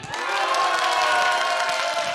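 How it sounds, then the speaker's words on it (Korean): Christmas worship congregation clapping and cheering together in a dense, sustained wash of applause and shouts, loud and steady for the whole stretch without pause. "자, 박수와 함성이에요. 하나 둘 셋."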